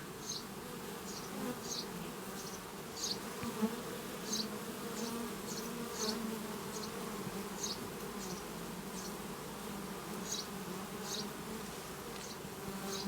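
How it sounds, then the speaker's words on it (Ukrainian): A dense swarm of honeybees buzzes continuously while settling onto a branch, a steady droning hum that fills the air throughout. "Але багато ще в польоті бджоли."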